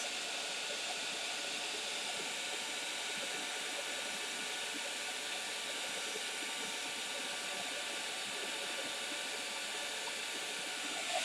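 A hair dryer blows steadily on craft beads, a constant close whooshing hiss that holds unchanged throughout.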